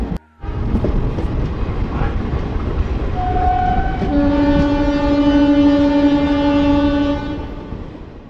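At Howrah railway station, a long, loud train horn sounds over the rumble and clatter of rail cars. The horn swells midway and holds for several seconds before fading, with no talking.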